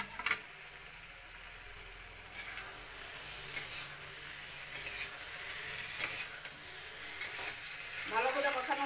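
Fish head fries in a pan with garam masala, a soft continuous sizzle and crackle with occasional stirring clinks, growing a bit livelier near the end.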